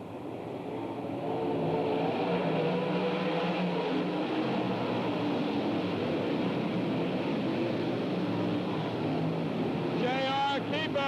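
Race cars at Bedford Speedway under green flag, a steady loud roar of engines sustained throughout, with a faint high squeal near the end.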